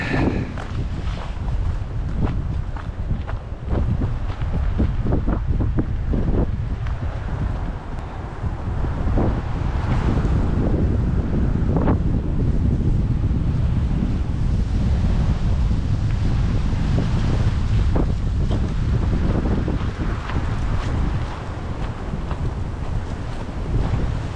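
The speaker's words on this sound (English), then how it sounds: "This wind is pretty unbearable." Strong gusty wind roars across a park trail, buffeting the microphone with a loud, continuous rumble and rushing noise that rises and falls in gusts throughout.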